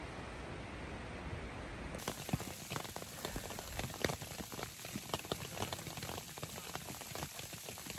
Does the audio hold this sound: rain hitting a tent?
yes